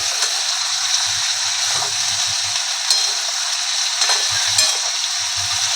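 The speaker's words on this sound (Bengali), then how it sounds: "অল্প পেঁয়াজ দিয়েছি হ্যাঁ এটা একসাথে একটু ভেজে নেব" A small amount of onion fries in a pan, making a steady, close, even sizzle that hisses throughout with a faint low hum beneath and no talking.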